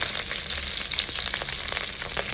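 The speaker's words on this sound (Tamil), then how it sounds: "கருவேப்பிலைய நல்லா கொஞ்சம் அள்ளி சேர்த்துக்கலாம்" Curry leaves sizzle and crackle steadily in hot oil for a Pondicherry-style fish curry, a close, continuous fry with scattered pops.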